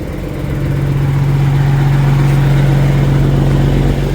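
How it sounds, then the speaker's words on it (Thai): A truck engine revs steadily to warm up, a loud sustained low droning hum that holds level throughout with no voices. "ตอนนี้ก็เร่งเครื่องวอร์มนิดนึง"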